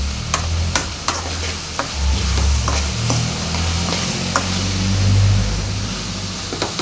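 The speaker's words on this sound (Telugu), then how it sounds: "కొంచెం అంతా కలుపుతున్నాను" Egg curry mixture being stirred in a frying pan, a steady scraping and sizzling with sharp clinks of the spoon against the pan repeating through the clip, close and fairly loud with a low rumble underneath.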